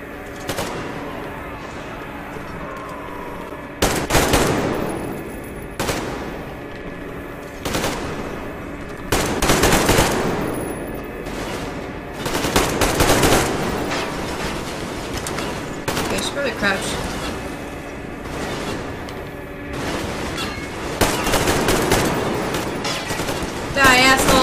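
Bursts of automatic gunfire from the Metro Exodus video game crackle repeatedly, some loud and close, others lighter, with players talking over the shooting at times.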